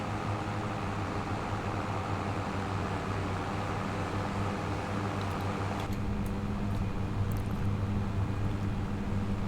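A mower runs in a farming video game, giving a constant droning engine hum with a steady low tone throughout, loud and unbroken, with a slight shift in pitch partway through.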